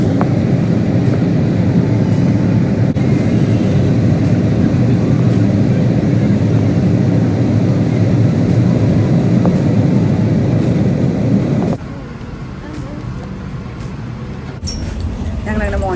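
An airliner lands in Montreal, Canada, heard from inside the cabin as a loud, steady engine and air roar that drops suddenly to a quieter rumble near the end.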